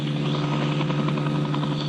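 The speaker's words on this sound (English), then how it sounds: "just to see what effect the rotor blades have" Steady, loud helicopter rotor drone with a throbbing engine hum, continuous and close throughout, no voices.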